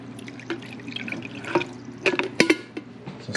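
Water is poured into the back of a small household appliance, trickling unevenly and dripping in close, scattered splashes and plinks, with no voices.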